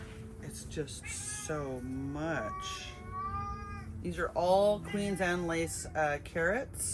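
A cat meows in drawn-out, wavering calls beside a garden of Queen Anne's lace carrots, its cries mixed in with someone talking nearby.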